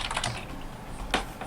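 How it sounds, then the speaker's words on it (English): Fast, rapid keystrokes on a computer keyboard during an online Blood Bowl 2 match, a busy patter of clicks with a sharper burst near the end, close and fairly quiet. "What are you mash typing to, Pete?"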